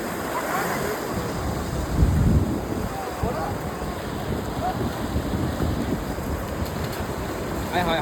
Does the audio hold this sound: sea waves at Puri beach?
yes